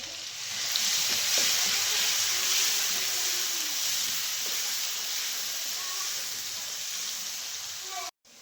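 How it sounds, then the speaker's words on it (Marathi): Green chilies sautéing in hot oil for vada pav, after garlic, curry leaves and turmeric go in. A steady, close sizzle and crackle runs throughout with occasional stirring scrapes, then cuts off abruptly near the end. "हिरवी मिरची चांगली परतली."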